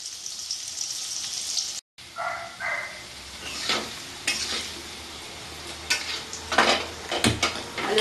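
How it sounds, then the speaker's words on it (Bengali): Oil sizzles steadily in a pan as potato pieces are stirred and turned, with occasional scrapes and clinks of a utensil against the metal. "আলুটাও আমি লাল লাল করে ভেজে নেব"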